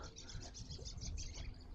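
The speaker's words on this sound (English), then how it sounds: "birds are going crazy" Faint birds chirping in rapid repeated tweets over a low background rumble, distant and busy.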